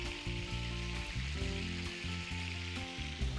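Chopped garlic sizzling and frying in hot oil in a pan, a steady dense crackle throughout, heard close with faint tonal background music beneath it.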